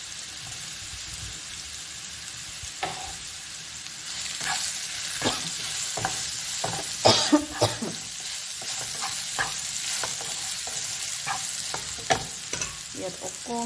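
Chopped ingredients for a chutney frying steadily in a pan with cumin, a continuous close sizzle broken by intermittent stirring scrapes and clinks, with no talk.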